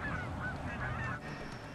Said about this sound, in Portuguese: Um aumento notável de gansos canadenses, aves da região não migratórias.